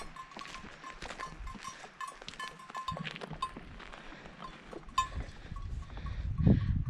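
Sheep near a parked car in Rondane National Park, Norway, with scattered bleats and hoof or bell clinks close by over outdoor ambience, a louder bleat near the end.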